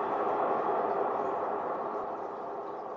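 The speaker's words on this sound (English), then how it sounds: "That weird noise you just heard is actually a cave noise." Minecraft cave ambience from the video game: a steady, eerie broadband rumble with a hollow, airy character that holds evenly for about three seconds, fading slightly toward the end.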